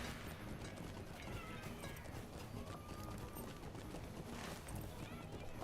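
A horse-like elk mount gallops in a video game, a quiet, rapid run of hoofbeats under a steady noisy game soundscape, with a voice talking over it.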